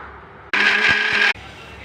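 A mixer grinder whirs in one loud, steady burst of just under a second while grinding coconut chutney with a little salt in the jar, starting and stopping abruptly with no talk.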